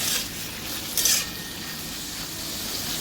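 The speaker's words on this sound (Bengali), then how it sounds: "এবার মাটন জুস্তাটা এটার মধ্যে দিয়ে দেবো আর এইটাকে একটু ভালো করে ভেজে নেব।" Mutton frying in a pan with onions already browned red, a soft steady sizzle with a brief brighter burst of hissing and light scraping as it is stirred.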